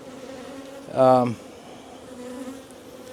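Honey bees at a hive split give one brief, loud buzz close by, with a faint hum around it and a short spoken word just before.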